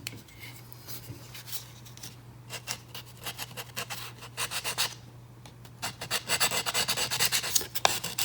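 Sandpaper of 150 grit rubbing over a raw wooden guitar headstock, a close, dry rasping in uneven strokes that grows denser and louder toward the end, with no talk.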